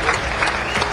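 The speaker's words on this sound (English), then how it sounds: "Both the audience and his opponent couldn't help but applaud Efren for his incredible escape kick shot" A pool hall audience and the opponent applaud Efren Reyes's escape kick shot; steady, close clapping from many hands fills the whole second with no break.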